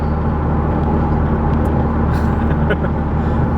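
A Nissan S13 rides on new baseline coilovers with digressive shocks, a loud, steady in-cabin road and engine drone that holds constant with only faint rattles on top.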